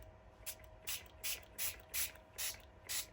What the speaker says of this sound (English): So I'm going to give a go, just the Distress Spray Lost Shadow.